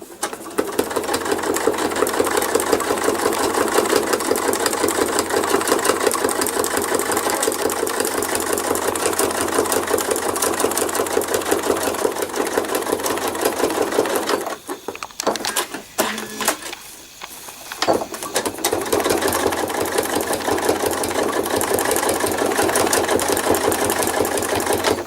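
A sewing machine stitching thread art runs in a steady, busy mechanical whir close by, briefly stuttering and pausing about two-thirds of the way through before resuming at full pace.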